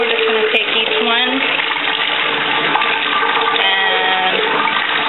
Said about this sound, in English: So I'm just going to turn on the water